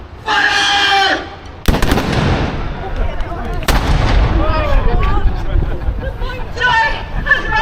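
Cannon fire booms out at a siege pageant reenactment on a city roundabout, with two sharp, loud blasts and rumbling echoes amid crowd noise, shouted voices and band music before and after.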